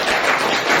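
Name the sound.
audience applause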